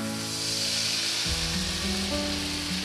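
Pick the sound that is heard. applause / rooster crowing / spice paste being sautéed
spice paste being sautéed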